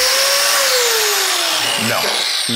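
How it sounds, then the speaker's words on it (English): A 6-amp Craftsman angle grinder fitted with a wire wheel whines loudly up close, its pitch sliding downward as it spins, with a brief spoken remark near the end. "This is a 6-amp Craftsman angle grinder, so it's a little bit more power than we're used to having"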